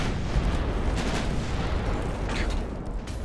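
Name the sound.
naval cruiser gun salvo firing in Ultimate Admiral: Dreadnoughts video game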